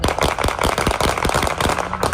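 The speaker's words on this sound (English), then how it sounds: "Shots echoing through this East Oakland neighborhood early Saturday" Rapid popping bangs crackle through an East Oakland neighborhood early on a Saturday, a dense burst of sharp reports in quick succession, loud and echoing.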